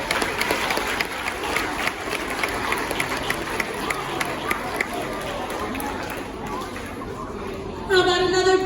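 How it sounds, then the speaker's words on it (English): Audience clapping at a school assembly after a Sleeping Beauty performance, a crowd of hands over murmured chatter that gradually thins, then a voice cuts in at the end. "How about another big round of applause for the entire cast and assistant directors of Sleeping Beauty?"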